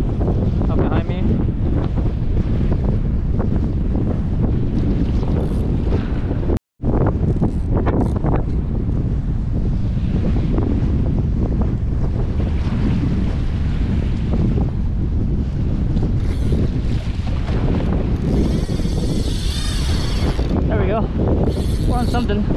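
Strong wind buffets the microphone throughout, a loud continuous roar at sea during kayak fishing for mahi off Hawaii, with water splashing and voices talking over it and one brief dropout midway.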